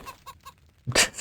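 A tied-down sacrifice chicken in the Heretic II video game gives a few short, quiet clucks, then a sudden louder squawk at the end, heard alone without talk.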